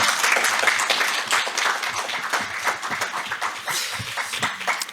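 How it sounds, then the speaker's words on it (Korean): A hall audience at a live event for separated families claps loudly and continuously for about five seconds, crisp dense hand claps with no voices over them. "다시 한번 박수."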